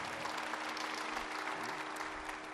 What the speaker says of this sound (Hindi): लो भाई जोरदार ताली बजा दो